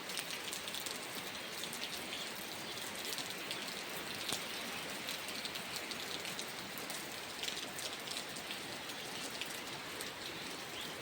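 Heavy rain pours down steadily outdoors over farmland, a dense, even hiss of drops on surfaces that holds without letup, with no voices heard.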